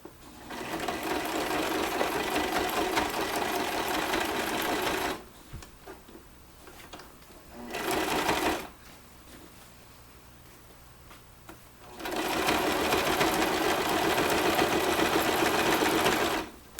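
A sewing machine stitches a seam on a down pillow cover in three steady, whirring runs: a long one, a brief burst and another long stretch. Quieter pauses fall between them.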